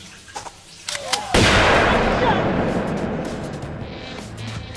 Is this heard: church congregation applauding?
no